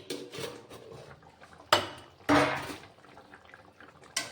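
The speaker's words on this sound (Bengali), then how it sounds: "আমি ঢাকাটা উঠিয়ে নিচ্ছি" A metal lid is lifted off a pot of rui fish curry with kakrol and potatoes, giving two sharp clanks and a later third clink over faint kitchen background noise, with no voices.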